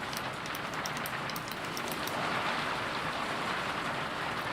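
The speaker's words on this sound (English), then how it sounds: "Rain." Steady rain falling in a video game, a dense continuous hiss of drops at an even level throughout, with no talking.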